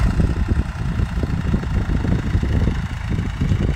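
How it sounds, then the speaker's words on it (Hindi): A tractor engine running steadily while turning in a small field between crops, a continuous low rumbling drone with slight throbbing, close and fairly loud, no voices. "देखिए अब देख कम जगह में ट्रैक्टर कैसे मोड़ते हैं"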